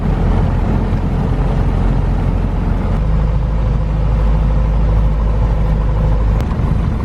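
Piper Cherokee 180 light aircraft engine droning steadily during a high-speed taxi, a loud, constant low rumble with wind buffeting, heard from inside the cockpit and getting slightly heavier partway through.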